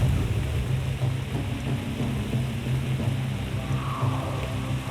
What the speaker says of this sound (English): That's a real storm. Wow, here it comes hard and cold.